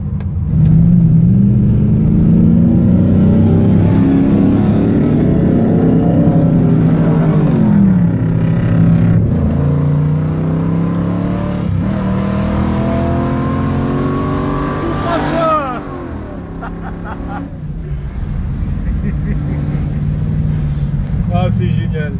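A Ford V8 muscle car, Cleveland or Windsor, revs and accelerates hard on a race circuit, engine pitch climbing and falling through gear changes, loud and close throughout with people talking over it.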